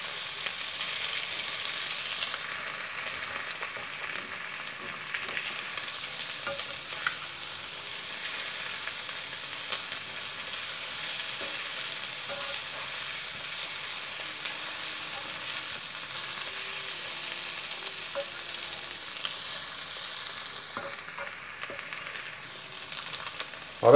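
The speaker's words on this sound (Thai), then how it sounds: "พอเริ่มสุกแล้วเราก็ใส่ผงกะหรี่ลงไปนะครับปริมาณนี้ก็กะเอาดูนะครับผัดทุกอย่างให้เข้ากันครับ" Crab noodles stir-frying with curry powder and egg in a pan give a steady, close sizzle that crackles continuously, with faint scrapes of stirring and no voices.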